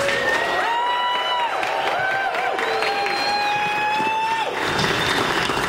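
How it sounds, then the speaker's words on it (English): Crowd applauding and cheering, with sustained clapping under loud, drawn-out whoops and shouts that rise and fall for several seconds, all close and full. "So I want to give yourself a round of applause for that."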